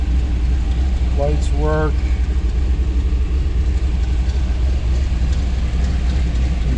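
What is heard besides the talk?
1962 fuel-injected car engine running after starting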